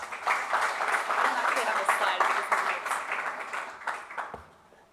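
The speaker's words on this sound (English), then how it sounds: "give her a big applaud for being here with us" An audience at an academic event applauds a guest speaker, producing a brief burst of moderately loud clapping that swells quickly, holds for a few seconds, then tapers off toward the end.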